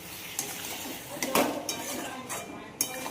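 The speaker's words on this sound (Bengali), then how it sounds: "এরপরে আমি নাড়াবো।" Spiced pieces of stomach get stirred in a pot with a little oil, a spoon scraping and clinking against the metal in several distinct strokes, close and fairly loud with a light background sizzle.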